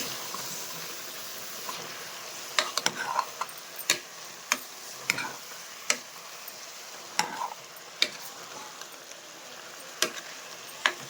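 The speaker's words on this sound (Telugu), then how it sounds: "ఇప్పుడు మష్రూమ్ వేద్దామండి మష్రూమ్ వేసి బాగా కలపాలి" Mushrooms stirred in a pan for a mushroom curry, a spoon tapping and scraping the pan in an irregular run of sharp clicks over a quiet, faint sizzle, close and alone.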